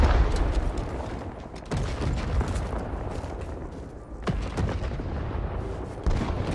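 Artillery barrage in the Vietnam War shooter Rising Storm 2: Vietnam, with heavy rumbling explosions and scattered gunfire cracking, several sharp blasts standing out over a continuous loud battle din.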